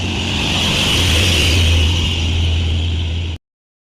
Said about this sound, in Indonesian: kita pantau dulu truk tangki CPO teman setia yang melintasi di depan warung kopi doa istri